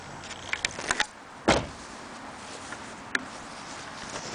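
The rear hatch of a 1995 Dodge Caravan ES pops open: a few small clicks and handling taps, then one sharp latch thunk, with a lighter knock afterward, close and alone in a quiet setting.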